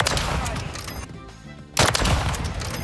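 Victus XMR sniper rifle fire in Modern Warfare 3: dense, loud gunfire bursts fill the clip, with a brief quieter gap before another sharp, loud blast and further shots.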